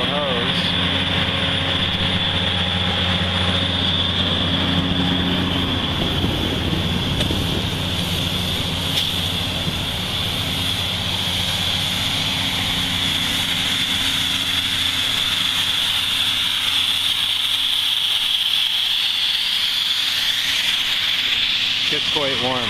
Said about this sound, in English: So here's our compressor. It's pushing the 900 CFM through this yellow hose.